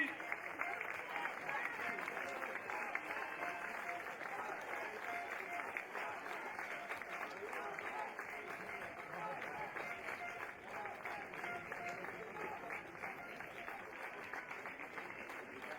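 Sustained applause from a crowd greeting the Paris FC youth football team during a team parade at a youth tournament, steady and moderately distant, filling the whole stretch without pause.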